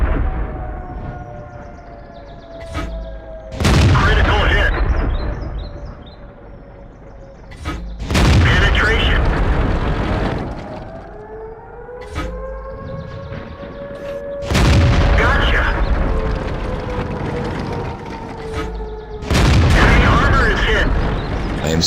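A StuG III tank gun in World of Tanks fires high-explosive rounds: four heavy booms spaced several seconds apart, each with a rumbling tail, over droning engine tones and a voice talking throughout.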